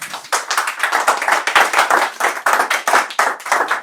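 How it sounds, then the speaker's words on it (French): A small audience at a live session claps to welcome a guest, a close, loud run of distinct handclaps lasting several seconds. "vous pouvez l'applaudir"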